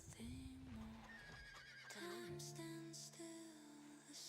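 A horse whinnies in a video game, a bright falling call followed by a second longer neigh over a steady game soundtrack, close and clear throughout.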